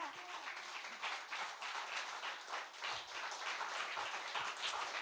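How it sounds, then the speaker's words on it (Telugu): A church congregation claps during a sermon, producing a continuous patter of many hands that stays steady and fairly soft for the whole stretch. "గట్టిగా చప్పట్లు కొట్టు."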